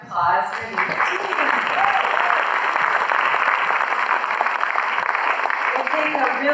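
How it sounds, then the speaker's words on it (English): Dense, sustained applause from a school audience after a student debate, a steady loud wash of many hands clapping with a voice briefly heard at the start. "Another round of applause for these teams."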